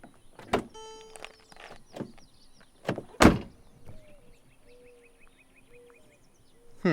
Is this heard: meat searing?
no